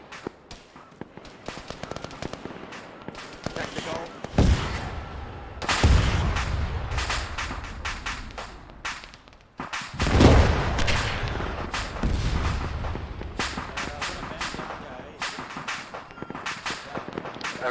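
Bursts of ZU-23 anti-aircraft cannon fire in the Arma 3 military game, heavy booming volleys at about 4.5, 6 and 10 seconds over continuous rattling gunfire and battle noise in a town setting.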